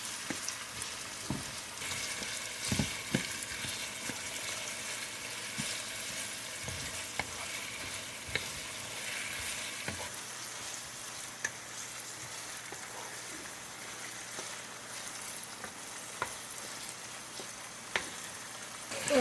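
Bok choy being stirred in a pot on a stove for a Jamaican-style dish with saltfish, giving a steady close sizzle and scraping stir with occasional sharper clinks, no talking.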